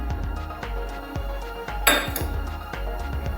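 A potato masher pounds mustard greens (sarson saag) inside a metal pot, giving a steady run of close, dull knocks and scrapes, with one sharper clang of metal against the pot midway.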